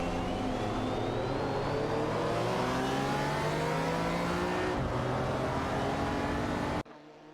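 Racing cars in a video game race, including a Lamborghini Countach and a McLaren F1 GT, roar steadily with layered engine whine and rising pitch for several seconds before cutting off abruptly near the end.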